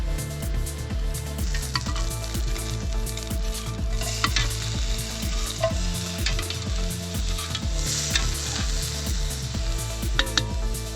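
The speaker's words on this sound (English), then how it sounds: "just enough to fry up the last bit tonight." Food fries in a pan over an outdoor fire in the Canadian wilderness, giving a steady loud sizzle with a pulsing, stirring rhythm and scraping clicks throughout, and no voices.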